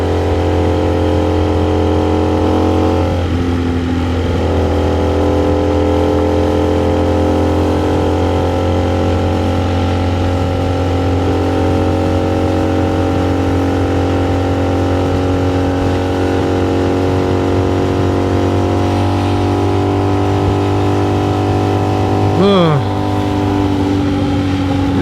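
Motorcycle riding through town at night, a steady engine drone and wind rumble running continuously throughout, with a brief rising rev near the end and a voice talking intermittently over it.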